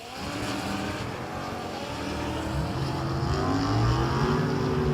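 A Porsche race car roars down the strip at a drag racing event, its engine note rising and loud throughout, with a steady broad rumble and climbing harmonics as it accelerates.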